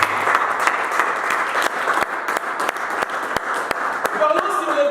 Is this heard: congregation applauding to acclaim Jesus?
yes